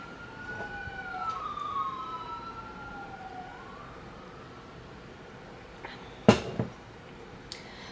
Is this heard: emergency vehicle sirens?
yes